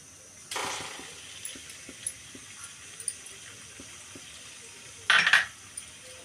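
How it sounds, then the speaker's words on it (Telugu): Onions tipped into hot frying oil for an octopus and brinjal curry, giving a broad sizzling burst near the start and a second sharp hiss a few seconds later, with faint clinks of a utensil in between. "ఇప్పుడు ఆనియన్స్ వేసుకుందాం"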